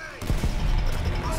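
A grenade goes off behind the player in Call of Duty: World at War, a loud, close, rolling explosion that fills the clip after a brief quiet start, with battlefield noise continuing under it.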